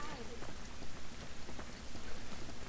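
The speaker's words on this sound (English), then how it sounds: "This rain ain't gonna do us any good." Steady rain falls in the video game The Last of Us, a soft, even patter of drops across a surface that stays faint and continuous for a few seconds.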